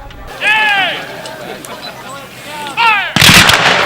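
Period-correct guns and cannons fire at a Gettysburg Civil War battle reenactment, with scattered shots and a heavy close blast near the end amid a busy outdoor background.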